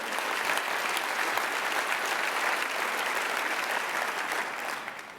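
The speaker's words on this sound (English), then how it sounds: "Yeah, go ahead and applaud for them." An audience clapping at a community breakfast, a steady round of applause that holds evenly for several seconds before tapering off slightly at the end, with no talking over it.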